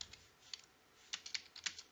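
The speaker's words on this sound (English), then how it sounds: "I'll be typing in over here some question" Keys tapped on a computer keyboard: a sparse few clicks at first, then a quicker cluster of crisp, close keystrokes, with no voice over them.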